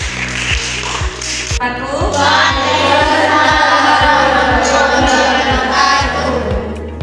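Students in a fifth-grade classroom clap for a presenting group during an Al-Qur'an Hadith lesson, a dense, sustained patter of many hands over a steady rhythmic tapping beat, with voices mixed in.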